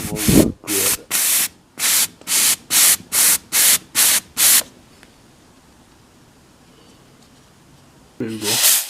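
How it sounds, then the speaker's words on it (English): A hot steamer hisses in about nine short bursts of spray onto a full upper denture, each burst loud and close, followed by a quiet pause before another burst starts at the end. "Now you've got to be careful not to spray yourself with a red hot steamer"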